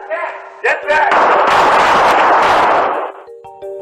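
Burst of gunshots fired by Seattle police at a woman inside her home, a loud dense volley of several seconds following brief shouting, then fading to quiet with a faint tone at the end.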